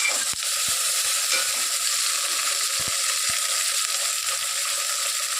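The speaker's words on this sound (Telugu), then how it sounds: "కొంచెం పసుపు వేసి కొంచెం వేపుకోవాలండి." Vegetables fry in a pan with turmeric: onion, beans, carrot, potato, eggplant, peas and peanuts. A steady close sizzle runs throughout, with a few light clicks of stirring and no talking.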